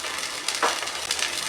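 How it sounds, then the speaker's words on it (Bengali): Ginger-garlic paste hits hot oil in a pan with fried onion and a little water, giving a steady close sizzle with a brief louder burst of spitting midway. "দিয়ে দেবো আদা রসুন বাটা"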